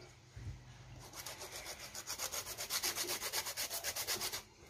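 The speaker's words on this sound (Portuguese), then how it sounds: "eu vou raspar um limãozinho em cima" Lime zest grated on a small hand grater, a steady run of close, rhythmic scraping strokes that speed up into a regular back-and-forth rasp with no talking.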